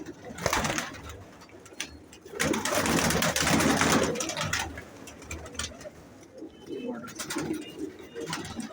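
Golden pigeons coo in low, throaty bursts at close range, repeating over a busy background of rustling and other bird sounds.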